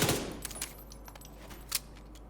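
An SMG in The Division 2 rattles off a full magazine with no recoil control, a burst of sharp close shots followed by scattered clicks and clatter.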